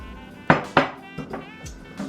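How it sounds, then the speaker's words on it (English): Almond flour chaffle batter being mixed in a bowl, with several sharp utensil clinks against the dish followed by softer scraping taps, close and clear with no talking. "Now I'm just gonna mix this up"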